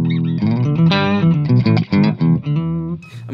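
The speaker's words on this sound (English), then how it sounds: "I'm going to show you the octaver and give you a couple of those examples" An octaver effect on a Blackstar ID Core Stereo 100 guitar amp, set to the low end of the octave range with delay and reverb switched off, plays a loud phrase of sustained, thick guitar notes with brief gaps between them.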